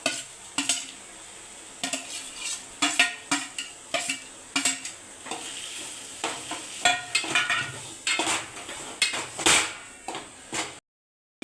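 Grated potatoes tossed into a pan for homemade potato patties and stirred, giving a run of close, irregular scraping and clattering strokes against the pan with a faint sizzle beneath, ending in a brief silence.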